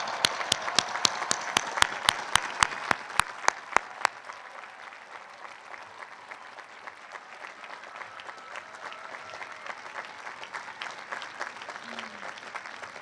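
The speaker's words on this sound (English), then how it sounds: "Graduates, join me in applauding the ultimate heroes, your parents and families." Large outdoor university commencement audience applauding graduates' parents and families, a long wash of steady crowd clapping with a few sharp nearby claps in a fast rhythm at first, slowly thinning.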